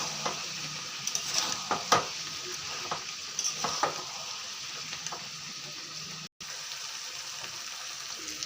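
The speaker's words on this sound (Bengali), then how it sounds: "মাংসটা ভালো থেকে ভাজা হয়ে গেছে" Meat and potatoes fry in a kadai with a steady sizzle, while a spoon scrapes and stirs in irregular clinks and knocks close by.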